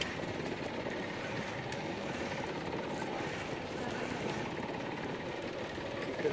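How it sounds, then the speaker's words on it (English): A sailboat's engine runs steadily out on the Sea of Cortez during fishing, a constant low droning hum that stays even and moderately quiet throughout. "Keep it away from the engine."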